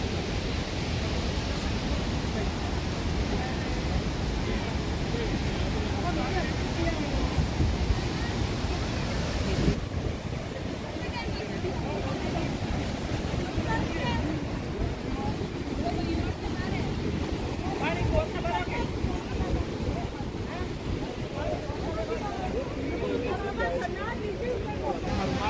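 Saraswati river rushing past Mana village near Badrinath, a loud continuous roar of flowing water mixed with wind buffeting the microphone, with someone speaking over it.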